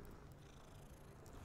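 A steady, low rumbling cat purr in the video game Hogwarts Legacy runs continuously at moderate volume with no other sounds.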